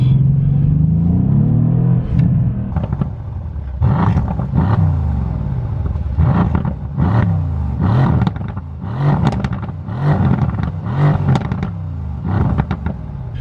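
A Mercedes-Benz C63 S AMG Coupe rumbling loud and close, its deep exhaust note rising and falling in repeated throttle surges and pops, with no talk over it.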